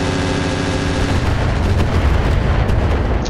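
Mech weapons fire in the Battletech video game during a city brawl: a dense, loud, continuous barrage of booming shots and blasts rumbling throughout, with no talking.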